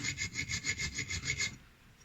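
Rhythmic rasping of a hand file stroking the metal spine of a knife, about eight even back-and-forth strokes close up, then it stops.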